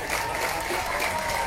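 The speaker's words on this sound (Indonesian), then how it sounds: "Berikan tepukan tuan-tuan." Applause from a crowd at a Parti Warisan Sabah political rally in Kalabakan, a steady, dense wash of clapping that holds evenly throughout the short moment.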